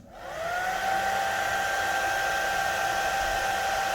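A hair dryer switched on at its lowest setting whirs up within the first half second, then holds a steady, loud, close airflow hiss with a constant motor whine throughout, no voices.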